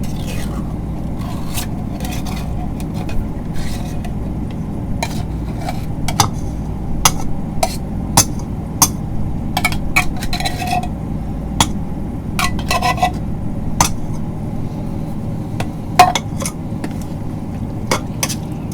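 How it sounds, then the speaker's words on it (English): Green beans being stirred in a pot on low heat: a continuous series of scraping and light clinking strokes against the cookware, fairly close, over a low background hum. "Stir it up and warm it up on low heat."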